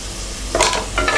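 Onion, tomato and mint leaves sautéing in a pan for prawn pulao: soft background sizzle with two quick stirring scrapes of a utensil, close up and brief, no talk.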